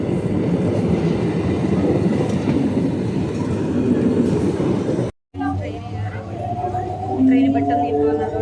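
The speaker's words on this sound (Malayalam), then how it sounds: "ഈ ട്രെയിനിലാണ് ഗൈസ് നമുക്ക് പോകേണ്ടത്" A passenger train runs along the tracks with a loud, dense rumble and rattle of wheels, briefly cut, then resuming with squealing tones and voices talking nearby.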